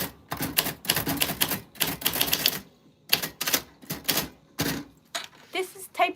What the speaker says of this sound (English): this is typewriter ASMR.